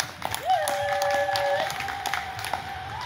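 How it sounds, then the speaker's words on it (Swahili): A church congregation claps for Jesus, a scattered patter of applause beneath a sustained sung or intoned voice, moderate and steady throughout. "Mpigie Bwana Yesu makofi."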